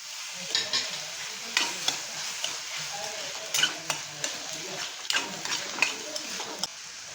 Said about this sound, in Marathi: कांदा हलकासा गुलाबी झालेला आहे आता आपण ह्याच्यामध्ये टोमॅटो ॲड करूया